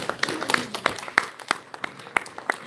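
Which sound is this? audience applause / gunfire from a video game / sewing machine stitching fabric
audience applause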